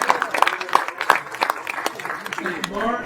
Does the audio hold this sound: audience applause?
yes